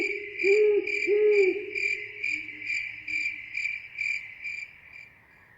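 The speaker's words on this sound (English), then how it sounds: "they were lulled to sleep by crickets and the distant hooting of owls" Crickets chirp in a steady, pulsing chorus on a quiet night, while a distant owl gives two soft hoots near the start; the insects carry on alone afterward.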